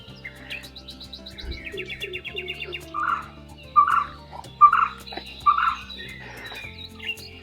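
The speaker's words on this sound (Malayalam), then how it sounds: "ഒരുപാട് പക്ഷികളൊക്കെ ചിലയ്ക്കുന്ന സൗണ്ടുകളൊക്കെ നമുക്ക് കേൾക്കാൻ പറ്റുന്നുണ്ട്" Several birds chirp and trill nearby at Kumarakom Bird Sanctuary by Vembanad Lake, quick rapid twitters joined by louder repeated calls, over a low steady background hum.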